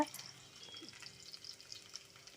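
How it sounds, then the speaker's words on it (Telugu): Soft, quiet sizzling of drumstick pieces frying in hot oil with turmeric and salt, with faint stirring clicks throughout. "ములంకాళ్ళు పసుపు ఉప్పు అనేది వేసి ఒకసారి వేయించుకోవాలి"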